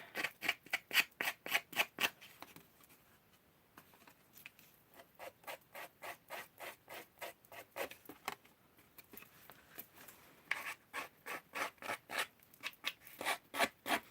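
Paper edges are scraped and distressed for a handmade card. Quick, rhythmic rasping strokes come in close bursts with brief pauses between runs, soft but crisp.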